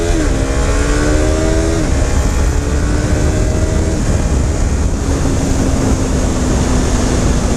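A Yamaha R3 motorcycle with a quickshifter accelerates hard at full throttle in second gear, its engine droning loud and close with rising pitch and quick shift breaks, under steady wind roar.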